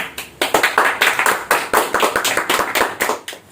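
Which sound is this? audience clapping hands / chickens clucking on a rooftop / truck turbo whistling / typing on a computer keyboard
audience clapping hands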